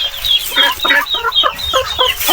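Egg-laying hens clucking on a farm, a close, busy run of short, repeated clucks and squawks with no one talking.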